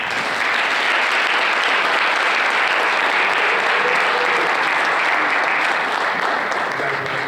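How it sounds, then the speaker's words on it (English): An audience at a school athletic awards ceremony applauds loudly and steadily, a dense sustained wash of clapping from a large crowd that holds for several seconds. "Now you can clap."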